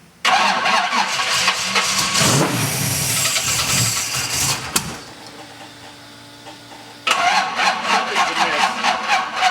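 A 1967 Pontiac Firebird convertible engine cranks over on a dead battery, with a loud, sustained grinding starter whir, a pause, then another burst of cranking.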